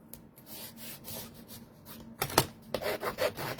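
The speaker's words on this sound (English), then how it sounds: "Burnish it, burnish it. I'm gonna burnish it" Burnishing across a journal cover: soft, steady rubbing strokes at first, then louder, quicker scraping passes near the end, with no voices over them.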